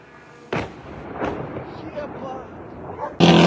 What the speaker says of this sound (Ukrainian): На відео, які опублікували місцеві жителі, чутно звук дронів, постріли і видно вибухи